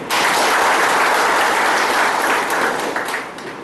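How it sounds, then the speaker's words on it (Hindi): Audience at a business seminar in Kondagaon, Chhattisgarh breaks into loud, dense applause right away, a sustained wash of many clapping hands that starts to fade near the end. "तो साथ में एक जबरदस्त ताली हो जाए।"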